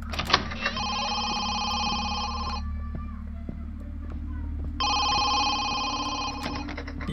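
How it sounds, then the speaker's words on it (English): Telephone ringing in a Jamaican horror video game, two long bursts of a trilling electronic ring separated by a gap, over a steady low hum, with no talking. "Answer the phone."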